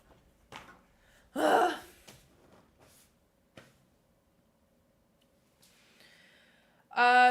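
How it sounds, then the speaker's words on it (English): A musician draws a sharp, audible gasp of breath before playing, one loud intake standing out among quieter breaths and small rustles, followed near the end by a bright sustained instrumental tone. "why she takes a gasp of air each time before she plays"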